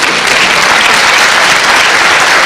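An audience at a business forum breakfast and expo claps steadily, a dense, loud and even wash of applause with no voices standing out.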